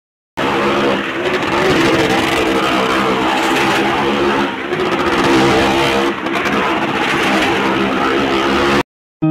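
A car engine at an outdoor fair show revs hard and loud, roaring in sustained surges with brief dips between bursts, up close and with no talking.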